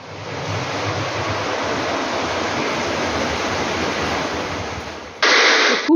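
Steady, dense rain pours outside during cooking, a continuous broadband hiss that rises abruptly louder near the end, with no talking.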